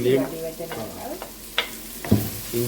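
Tomatoes and ginger frying in a pan for tin fish curry, soft sizzling broken by a few scraping stirs of a spoon, close and fairly quiet.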